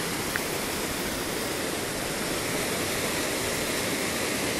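Steady rushing of river water in Derbyshire's Peak District dales flows right over the submerged microphone, a dense, even wash of noise with no breaks.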